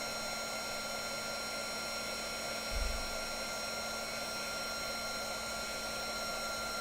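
An embossing heat tool blows hot air in a steady, moderately quiet whooshing hum with constant tonal whine, broken only by a brief low bump midway.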